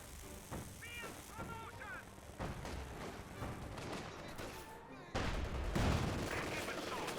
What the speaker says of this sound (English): Troops opening fire, trying to break it apart